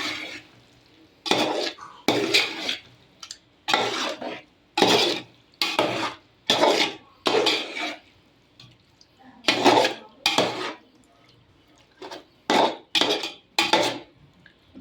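Chicken being mixed with masala in a pot for biryani, a series of loud, close wet squelching and scraping bursts, roughly a dozen rhythmic strokes separated by short quiet gaps, with no talk.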